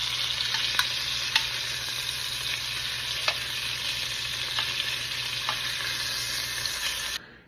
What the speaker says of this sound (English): Okay, I've seared off all the short ribs.